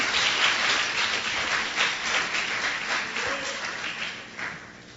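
Church congregation applauding after a preacher's exhortation, a dense continuous wash of many hands clapping at moderate distance throughout, with no voices standing out.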